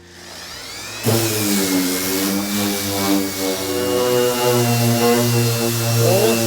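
Bondo body filler on a 1952 Ford Mainline coupe being sanded down with 100 grit sandpaper, a steady, loud, continuous rasping that starts abruptly after a second and continues without pause, with a strong tonal drone underneath.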